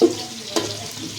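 Cardamom and other whole spices fry in a pan for biryani, giving a brief close sizzle with a few light stirring clatters.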